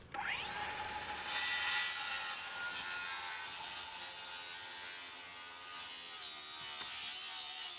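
A handsaw cuts a wooden deck ledger board to length in place at an inside corner of a log cabin deck frame, a steady, close, continuous rasping of teeth through wood with no talking.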